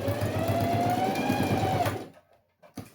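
A sewing machine runs steadily as it stitches the lining of a homemade school pencil case. The motor whirs loud and close for about two seconds, then stops, followed by a couple of faint handling knocks.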